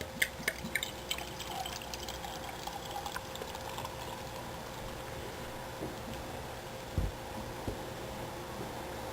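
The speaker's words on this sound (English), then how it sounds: "pour my official Innis Gunn glass" Beer pours steadily into a glass with a soft, quiet splashing and a few small drips, heard up close with no talking.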